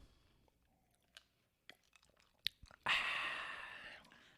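Crunchy bites and chewing of a Popeyes spicy chicken sandwich, heard close up as scattered sharp crunches, then a louder sustained rustling burst toward the end.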